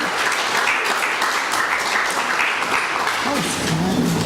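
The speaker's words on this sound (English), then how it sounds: "Let's give another wonderful round of applause." An audience applauds steadily in a hall, with dense continuous clapping and some cheering and voices mixed in.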